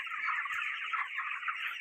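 Broiler chickens at 28 days old in a poultry shed with full feeders, giving a steady, dense chorus of soft clucking and chirping from many birds at once, continuous and moderately close throughout, with no talking.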